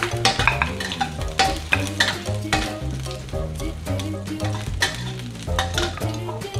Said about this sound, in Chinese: 先下姜丝，爆香。